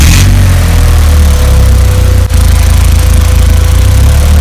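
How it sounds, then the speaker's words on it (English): A 1990 VW Vanagon engine, turbocharged, running loud and steady after starting, a continuous low rumble with a brief dip about halfway through. "Cranking it over for the first time."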